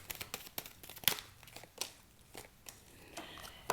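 Tarot cards are handled up close, with short papery crinkles and light taps spread unevenly across a quiet background and no speech.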